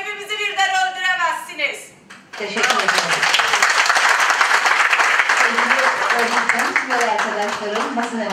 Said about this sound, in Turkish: Ben sizleri alkışlıyorum.